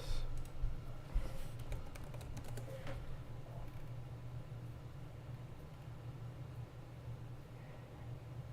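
Brief burst of computer keyboard typing, clustered keystroke clicks in the first few seconds, then a steady quiet hum for the rest.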